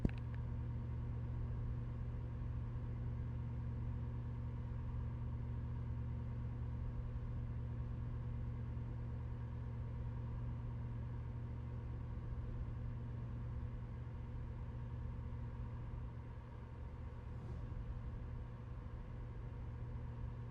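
Mercedes-Benz S500L engine in Euro Truck Simulator 2, a steady low drone holding constant for the whole stretch, smooth and unchanging.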